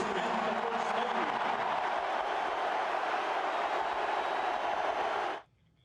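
A large stadium crowd roars as the President of the United States and the First Lady enter at a college football national championship game, a dense, sustained wall of cheering that cuts off abruptly near the end.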